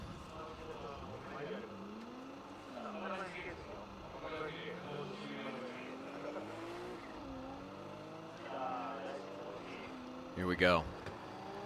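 A Nissan S15 drift car runs a qualifying pass at Formula Drift Fuji, engine rising and falling through shifting revs with tire squeal, heard at a distance beneath steady commentator talk.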